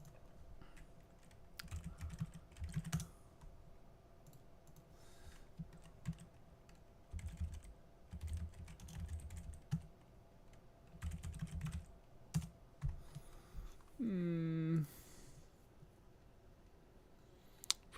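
A computer keyboard clatters with several bursts of quick keystrokes, soft and close, separated by short pauses.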